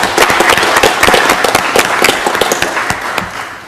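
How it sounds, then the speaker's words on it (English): An audience at a city council meeting applauds graduates, with dense, loud clapping that carries on steadily for several seconds and then starts to thin out, with no talking. "can we just give them all a round of applause real quick for that accomplishment?"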